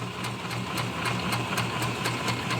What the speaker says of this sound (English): Now again, I'm sewing off to the side, so I can't see it as clearly.